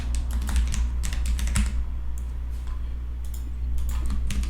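Fingers type quickly on a computer keyboard, entering tags into a website form. The keys click in close, uneven bursts over a low steady hum, with no one talking.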